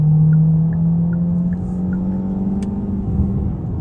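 A 2025 Hyundai Tucson drives along with a steady, low engine drone and a smooth whir of road noise, close and continuous with no talking.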